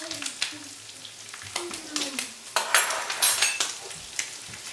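Sausage and onions fry in a pan for a low-carb quiche, a steady close sizzle broken by the scrape and clink of a utensil stirring against the pan, with no one speaking.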